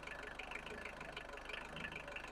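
A Vauxhall Astra van, restarted after years of sitting, idles steadily with a low, faintly knocking engine rhythm that stays even and quiet throughout.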